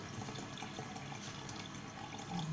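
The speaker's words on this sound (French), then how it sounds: "on va recommencer en mettant de nouveau 250 ml de vin" Red wine being poured into a small shaker gives a soft, continuous liquid trickle and splash, quiet and steady, swelling slightly at the end.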